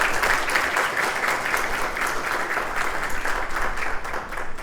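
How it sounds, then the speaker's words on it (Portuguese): Audience applause greeting a guest speaker at an education summer school event on AI, a loud, steady wash of clapping from a large crowd that holds for several seconds without talk. "Recebamos com uma forte salva de palmas o nosso convidado"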